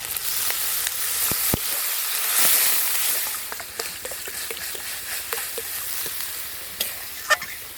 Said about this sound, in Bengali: মশলা থেকে তেল ছেড়ে গেছে এবার দিয়ে দেব জল